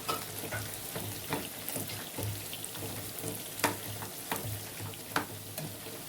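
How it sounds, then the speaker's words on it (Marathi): Soybean chunks fry in hot oil with a steady, close sizzle, dotted with sharp crackles and pops throughout. "सोयाबीन आपण तळण्यासाठी टाकलेले आहे"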